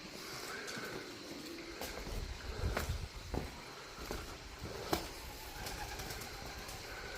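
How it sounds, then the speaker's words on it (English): Pigeons cooing along a hiking trail in Avakas Gorge, soft low coos with a few wing flutters and scattered outdoor noises, fairly faint and distant. "Wherever you go, there's pigeons."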